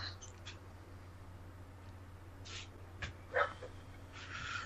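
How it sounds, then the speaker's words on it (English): Dog whimpering and yipping to be let outside, a few faint short whines over a low steady hum in a quiet room. "Dog's got to go outside."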